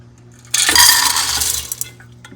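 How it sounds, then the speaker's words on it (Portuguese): Dry beans poured into a metal pressure cooker pot in a home kitchen make a sudden, close rattling patter that lasts over a second, then thins to a few scattered clicks. "Vou colocar aqui na panela de pressão mesmo"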